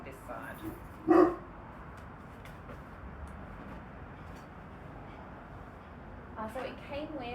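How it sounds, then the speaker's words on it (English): A neighbour's dog gives a single short bark at moderate distance, then quiet outdoor ambience follows, with faint speech near the end. "That's my dog, my neighbour's dog, barking at me."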